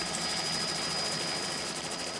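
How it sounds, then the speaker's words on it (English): A helicopter hovers in position over an African wildlife rescue, its rotor and engine a loud, continuous, close roar with a faint rhythmic beat and no voices. "The helicopter pilot swoops into position to give Pete a clear shot."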